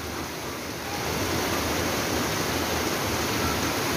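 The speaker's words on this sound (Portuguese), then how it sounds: "O bueiro estourou." Floodwater gushes from a burst storm drain during a flood in Diadema, São Paulo, a loud, dense, continuous roar of rushing water that holds steady and swells slightly after the first second, with no talk.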